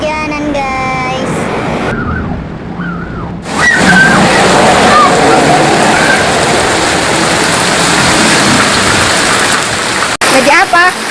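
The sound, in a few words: rain, playing outside in the rain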